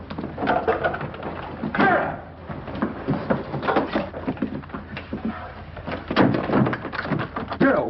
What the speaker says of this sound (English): I'll open up the window.